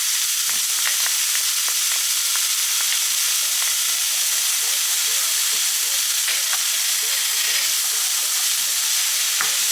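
Three cloves of minced garlic sizzle and fry in a hot pan for a lasagna sauce, a loud, continuous hiss with occasional crackles and stirring scrapes, no talking.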